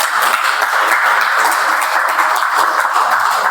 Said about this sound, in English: really we can appreciate and give a big round of applause